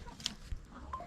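Chickens clucking softly in a coop, a couple of short clucks over low outdoor background noise.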